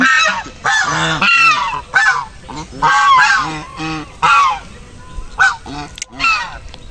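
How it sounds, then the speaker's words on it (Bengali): Geese in a village honk loudly and close by, a run of repeated harsh honks in quick bursts with brief pauses between. "আচ্ছা এই হাঁসগুলা তো অনেক ভালো"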